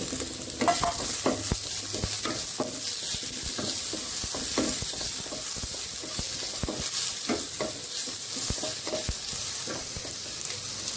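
Seeded, finely chopped tomato fries in a pan on very low gas for egg bhurji, a soft continuous sizzle broken by repeated close stirring scrapes and taps of a spatula.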